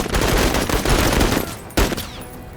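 Sustained, loud rapid gunfire from a squad in the tactical video game Menace, dense bursts rattling continuously before briefly easing, then another sharp volley.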